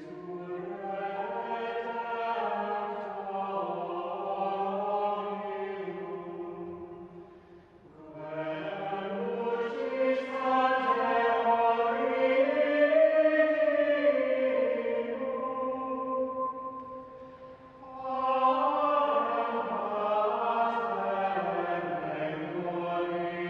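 Voices of a choir sing a slow, flowing plainsong chant in unison, three sustained phrases separated by short breaths, soft and reverberant.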